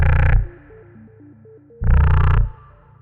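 Synthesized sci-fi shotgun blast built on an EFM1 synth with distortion and phasers, in the style of Minority Report: two short, loud, bright bursts about a second and a half apart, each trailing into a soft stepping tonal pattern.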